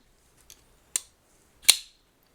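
Two crisp mechanical clicks from a Shirogorov Neon Lite pocketknife, sharp and close, with a faint lighter tick before them, the metal mechanism snapping open and shut.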